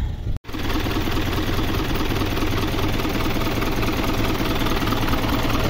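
A truck engine, freshly given an oil change, cranks briefly then settles into a steady, loud idle with a dense low rumble and faint knocking texture running continuously.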